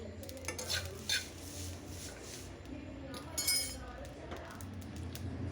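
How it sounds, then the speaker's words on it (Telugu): Curry leaves dry roast in a pan, with a spoon scraping and clinking against the metal in faint, irregular strokes and a soft crackle underneath. "కరివేపాకు ఇట్లా పౌడర్ అయిపోయేదాకా వేయించుకోవాలి."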